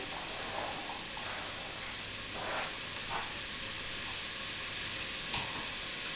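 A steady, broad sizzle of vegetables frying in a hot pan for a veggie lasagne, with occasional soft clinks and stirring sounds and no talking.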